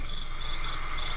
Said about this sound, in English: I have a cricket outside of my room